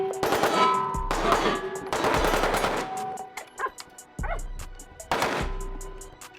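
Rapid pistol gunfire at an outdoor shooting range, rounds ringing off steel target plates in quick bursts with sharp metallic clangs and short pauses between strings, loud and close.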